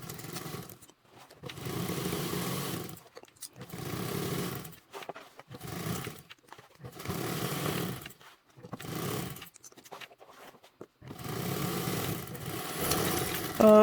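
A sewing machine stitches a duffle bag seam in repeated bursts of rapid whirring, each run lasting about a second or two, separated by brief pauses and heard up close.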